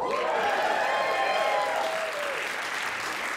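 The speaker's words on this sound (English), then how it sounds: "Thank you for your applause." A comedy club audience applauds a stand-up comedian, a continuous dense wash of clapping with a faint whooping or squealing tone fading out midway.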